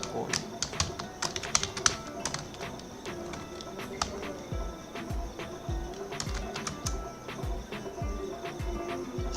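Typing on a computer keyboard during web development work, with irregular bursts of close, crisp key taps running throughout and a quiet voice in the background.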